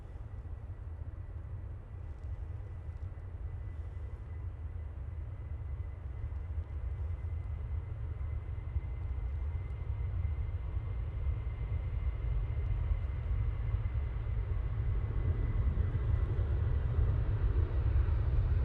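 A KLM airliner passes at Manchester Airport, a steady distant jet roar that slowly swells in loudness over the whole stretch, with no voices.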